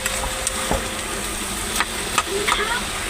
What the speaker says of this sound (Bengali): এবার আমি এটাকে ভালো করে নাড়িয়ে দেবো।